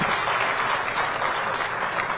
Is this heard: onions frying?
no